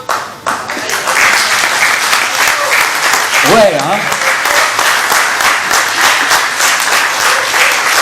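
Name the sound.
audience applauding a child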